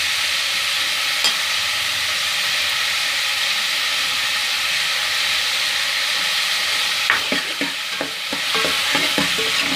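Thin-sliced ginger and onion fry in a pan with a steady, dense sizzle, loud and close throughout, and stirring clatters and scrapes come in near the end.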